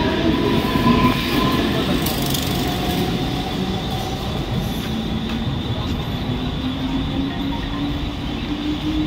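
Mumbai local train bound for Kalyan pulling into platform 1 in the evening, a steady loud rumble of wheels on rails with drawn-out squealing tones as the carriages roll past close by.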